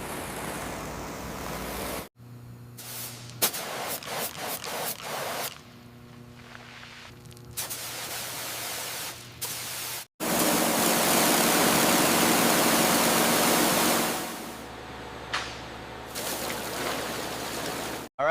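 A hose sprays water to clean the frame of a Mack truck, giving a loud, steady hissing rush that cuts on and off in several bursts with brief gaps, close to the listener.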